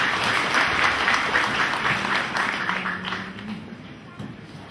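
A Catholic parish congregation applauds at a new priest's thanksgiving Mass, a full round of clapping that is loud at first and tapers off, with some voices mixed in.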